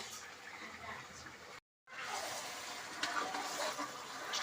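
Chicken bagara rice being stirred in a pot, a soft continuous scraping and sizzling texture with a brief dropout partway, close and fairly quiet.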